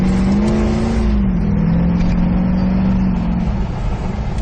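An 1989 Toyota 4Runner with a swapped 350 Chevy V8 drives along, its engine droning loud and steady with a rising then settling pitch, close and continuous.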